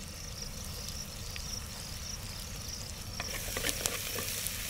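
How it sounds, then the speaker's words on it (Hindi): Onions, green chillies and salt sizzle and fry in a pan for a goat curry cooked outdoors, a steady hiss with stirring clatters near the end. "अनियंस जल्दी पकने के लिए सबसे पहले डाल देंगे उसमें नमक।"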